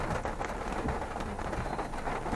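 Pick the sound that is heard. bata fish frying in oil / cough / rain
rain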